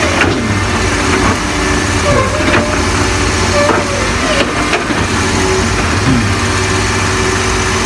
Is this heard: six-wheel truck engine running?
yes